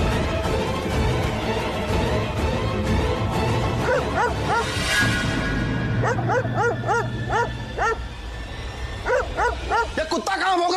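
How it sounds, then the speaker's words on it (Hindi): A mobile phone ringtone made of dog barking plays as repeated yips and bow-wows over a dramatic scene, fairly loud and rhythmic, with background music underneath. "भाई ये कुत्ते की आवाज नहीं है, किसी के मोबाइल की रिंगटोन है ये।"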